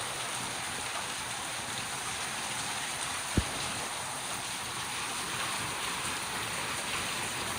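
Heavy rain falls in a steady, dense hiss that carries on without letup, with a single brief tap standing out partway through.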